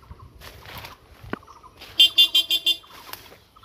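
A vehicle horn beeps five times in a quick run near a quiet rural jute field, sounding close and sharp over soft outdoor ambience.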